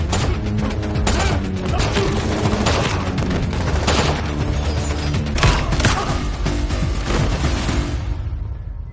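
A film shootout erupts in dense, continuous gunfire, with rapid overlapping shots and booming blasts packed tightly together, loud and chaotic before fading out at the end.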